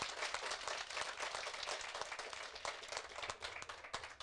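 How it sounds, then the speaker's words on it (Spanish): A church congregation at a Catholic Mass gives a sustained round of dense clapping, loud and continuous from start to finish with no voices over it. "Fuertes aplausos al Señor por su amor y su misericordia."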